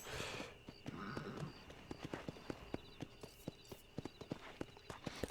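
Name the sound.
horse hooves clip-clopping while walking in Red Dead Redemption video game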